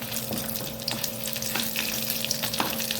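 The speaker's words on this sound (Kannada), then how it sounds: "ಮೊದಲಿಗೆ ಫ್ರೈ ಮಾಡಿಕೊಂಡು, ಸ್ವಲ್ಪ ಅದು ಫ್ರೈ ಆಗುವಾಗ, ಸ್ವಲ್ಪ ಕಲರಿಗೆ ಚೇಂಜ್ ಆಗುವಾಗ ಮೆಣಸನ್ನು ಹಾಕ್ಕೊಳ್ತಿದ್ದೇನೆ" Chillies frying in hot oil in a pan for Mangalorean cauliflower sukka, a continuous close sizzle with crackling pops and occasional utensil scrapes over a faint steady hum, no talk.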